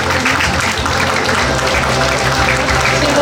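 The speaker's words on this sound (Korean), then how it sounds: "우리 지역 교육 발전에 관심과 도움 주시는 분들에게 박수로 환영해 주시기 바랍니다." An audience at a Gyeongsangbuk-do education forum in Chilgok claps steadily to welcome the superintendent and guests, a dense, continuous applause filling the hall.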